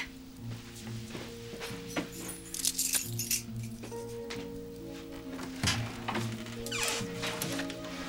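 A bunch of keys jangles and clinks several times in a hotel setting, bright metallic rattles over a quiet room tone with soft background music.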